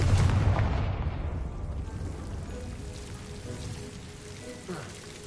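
Confringo blasting spell cast in the Hogwarts Legacy video game: a loud fiery burst opens, then a crackling, rumbling blast that fades gradually over several seconds.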